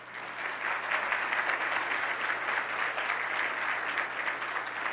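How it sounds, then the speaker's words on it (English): A banquet audience at an honors brunch claps steadily for a television production team, a dense, even wash of applause sustained throughout without speech. "yes, applause for them."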